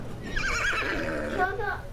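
A horse neighs in the video game Battlefield 1, a loud whinny with wavering pitch over about a second and a half, close, with someone talking over it.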